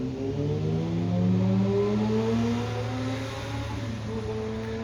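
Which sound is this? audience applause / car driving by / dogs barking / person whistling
car driving by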